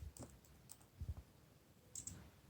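Faint, sparse clicks of a computer keyboard being typed on, a few separate keystrokes spread unevenly across a quiet background.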